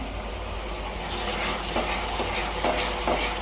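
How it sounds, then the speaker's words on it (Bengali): Potatoes and meat sizzle and scrape in a pan as they are stir-fried, with steady frying hiss and a few louder stirring strokes, close by and with no talking. "এটা খুব সুন্দর করে কষাই নিতেছি"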